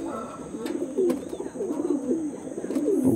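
Pigeons of Andhra, Pulsar and Arshad breeds coo continuously and close by, a low rolling burbling alone against a faint steady hum.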